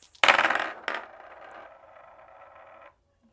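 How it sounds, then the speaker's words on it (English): Dice are rolled for a tarot and oracle reading: a sharp clatter and a second hit as they land, then a soft rolling rattle that fades out after a couple of seconds, close by and alone. "first we're going to roll some dice"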